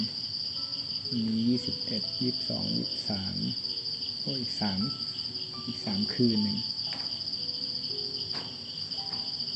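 Crickets chirp in a steady, continuous high trill throughout, while someone talks calmly over them.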